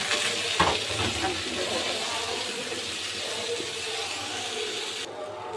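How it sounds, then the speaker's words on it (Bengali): Salted potatoes fry lightly in a pan with an even, moderate sizzle and a brief clatter near the start, then the sound cuts off abruptly at the end. "প্যানের মধ্যে দিয়ে আলুগুলো দিয়ে আমি একটু হালকা ভেজে নেবো"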